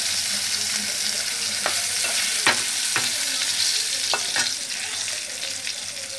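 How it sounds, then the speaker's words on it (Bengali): Potatoes fry in a pan with turmeric in a constant loud sizzle. Several sharp utensil scrapes and taps break in as they are stirred, with no one talking. "আলুগুলোকে ভেজে নেব"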